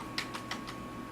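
Keystrokes on a computer keyboard, about five separate taps spaced irregularly over a second, close and moderately loud against a steady low hum, no voices.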